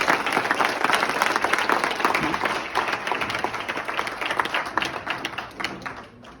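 A seminar audience in Jaipur bursts into loud, sustained applause, dense clapping holding steady before tapering slightly toward the end, with no talk over it.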